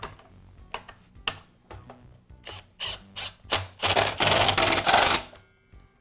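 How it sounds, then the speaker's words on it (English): Plastic parts of a Makita miter saw switch assembly being fitted back together: a switch, trigger safety and cover, heard as a run of close clicks, snaps and rattles that builds into a denser, louder burst of handling noise near the end. "I'll finish by reinstalling the trigger safety and the cover"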